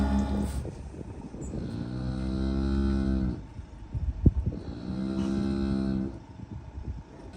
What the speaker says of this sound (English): We can all hear the cow mooing in the background because me moving this metal object, whatever it is really aggravating her.